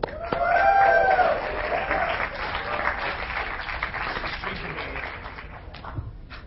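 An audience at a Texas gaming tournament applauds the winner bracket champion, a steady burst of clapping and crowd noise that slowly fades.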